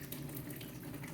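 Warm water runs steadily from a tap for hand washing, a continuous close, even rushing flow with no talking.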